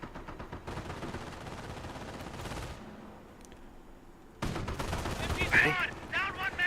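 Machine gun fire in the World War II strategy game Company of Heroes, rapid rattling bursts with other gunfire, a brief lull and then a loud renewed volley over battle noise.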